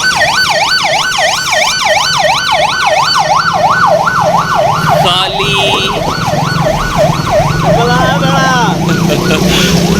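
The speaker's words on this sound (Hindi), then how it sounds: "अब तो ये एम्बुलेंस आ गई है" A loud wailing ambulance siren cycles rapidly up and down, close by, with traffic noise underneath and a second siren pattern briefly overlapping.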